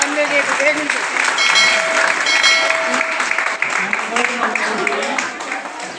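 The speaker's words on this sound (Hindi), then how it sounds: "और एक बार आप सभी के लिए अपने लिए तालियां बजाएं। जोरदार तालियां।" Sustained applause from a large crowd at an International Girl Child Day event in Bundi, steady and loud throughout, with a few voices rising above the clapping.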